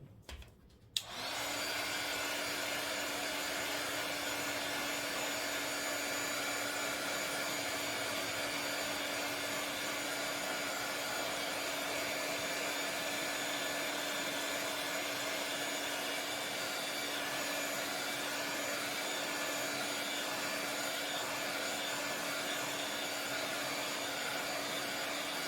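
A hair dryer switches on with a click and blows steadily for a long stretch, a constant whirring hum drying watercolour paint on a wreath painting, close and unbroken.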